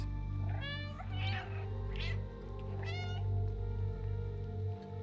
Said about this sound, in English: Do you accept meows as payment?